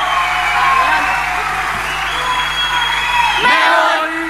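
Murga audience at a carnival stage performance clapping and cheering in a dense, steady wash of crowd noise, with a loud swell near the end.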